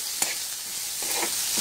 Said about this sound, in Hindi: ये डाल तड़का लगा रही हूँ मैं।